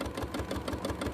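Free-motion quilting on a domestic sewing machine that seems in need of a service, its needle bar pounding in a fast steady rhythm with a low motor hum, close and continuous, with no voices.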